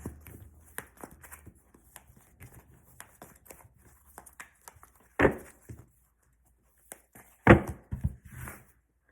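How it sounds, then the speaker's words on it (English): Tarot cards being shuffled by hand, mostly soft irregular riffling and tapping close by, with two sharper bursts of card-slapping around the middle and near the end, no talking. "They're so hard to shuffle."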